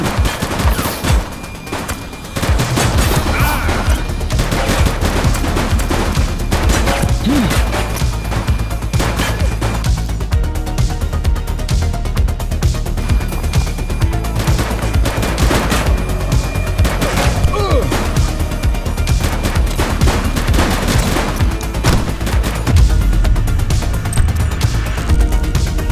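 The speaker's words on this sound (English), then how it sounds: "He's shooting!" Sustained gunfire in a police shooter video game, with dense volleys of shots and bursts running almost continuously at high level alongside booms and crashes, with game voices heard in between.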